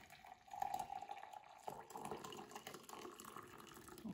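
Water freshly boiled on a stove is poured into a container, a close, gurgling splash that starts softly, swells and continues unevenly with small drips.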